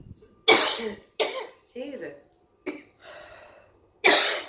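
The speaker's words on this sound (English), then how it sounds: "Why you always cough when you got to talk?" Several harsh coughs and throat clearings from one person, close and loud, bursting in uneven clusters with short pauses between, a brief spoken exclamation mixed in.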